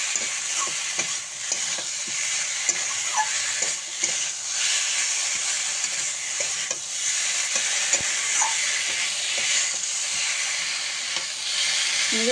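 Vegetables fry in spiced oil in a pan for a Bengali koi fish curry, a continuous loud sizzle and hiss with repeated stirring scrapes and clinks throughout.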